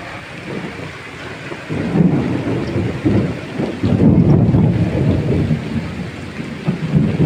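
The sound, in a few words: heavy rain with thunder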